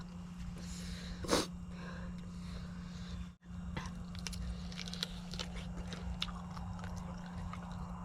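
Someone gnawing on chicken feet up close, with wet biting, crunching and chewing sounds scattered irregularly over a low steady hum, plus a louder sniff or snort early on and a brief dropout partway through.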